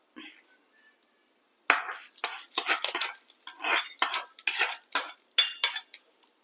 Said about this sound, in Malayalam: ഇതൊക്കെ ഒന്ന് കലക്കാം നമുക്ക് താളിച്ചത് ഇട്ട് കൊടുക്കുക